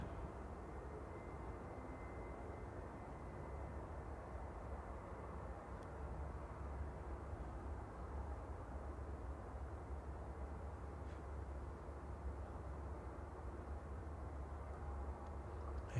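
An Emirates airliner taxis at Manchester Airport, giving a faint, steady, distant jet engine rumble and hiss that stays level the whole time with no voices.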